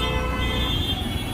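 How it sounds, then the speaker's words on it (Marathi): Heavy road traffic in a congested Indian street, a loud steady rumble of engines with a sustained car horn tone sounding over it, close and continuous for the whole moment. "बघा किती ट्रॅफिक आहे."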